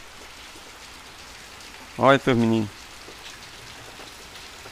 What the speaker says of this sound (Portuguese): Muita chuva. Como vocês podem ver.